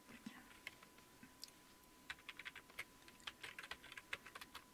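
Soft, quick keystrokes on a computer keyboard entering a Linux command, a faint, irregular run of clicks with a steady hum underneath.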